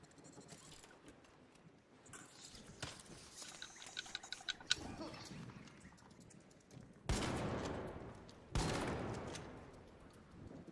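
Video game gunfire as a player shoots at spiders: two loud, dense bursts of rapid shots stand out near the end, after quieter scattered clicks and game sounds.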